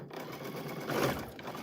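A misbehaving sewing machine stitches a quilt in a steady, close mechanical whir that swells briefly near the middle of the short burst, with no voices.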